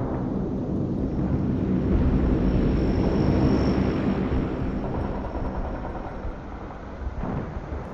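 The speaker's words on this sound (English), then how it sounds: "I order the cargo plane to drop my stuff on my drop zone." Cargo plane in the World in Conflict video game flying in from the distance, a loud, continuous broadband engine roar that swells toward the middle and holds steady, with no talking.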